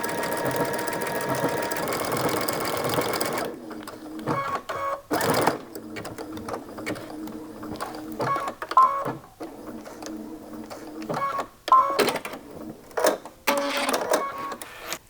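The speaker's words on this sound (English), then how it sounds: "I'm going to stitch all the way down" A sewing machine stitches down the length of a zipper bag in several close, loud bursts of rapid needle chatter, broken by short pauses and a few faint clicks, with no talking.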